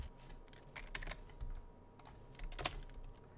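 Typing on a computer keyboard during an old Minecraft minigame, TNT wars: scattered, quiet, close key clicks in short irregular bursts with pauses between, and no talk.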